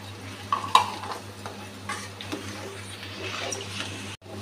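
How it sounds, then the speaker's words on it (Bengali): Black cumin seeds frying in ghee while being stirred, a soft sizzle with a couple of light utensil scrapes and clinks near the start, close and steady before cutting off abruptly. "ঘিটা দিয়ে দিচ্ছি, এখন কালো জিরেটাও দিয়ে দিচ্ছি।"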